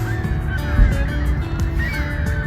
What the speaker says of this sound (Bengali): আর পাখিরা ডাকতেছে কিরকম।